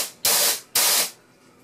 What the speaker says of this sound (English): So I'll just turn on the output for a sec and it'll spray the nitrous.